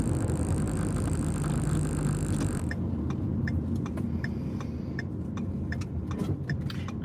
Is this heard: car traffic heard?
yes